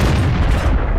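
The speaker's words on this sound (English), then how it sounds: "Enemy vehicle destroyed." A booming cannon shot and explosion as an enemy tank is destroyed in the World of Tanks video game, loud and dense, filling the whole second with a heavy low rumble.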